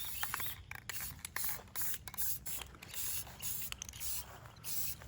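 An aerosol can hisses as Supra wheels are spray painted. It gives short, repeated bursts with brief pauses between them, close and fairly soft, and no one talks.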